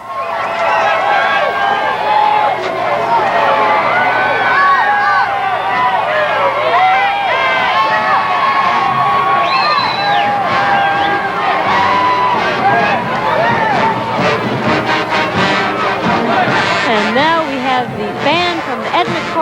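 A large crowd cheers and shouts along the route of the Bacchus Mardi Gras parade in New Orleans, a dense continuous roar of voices with excited whoops rising and falling.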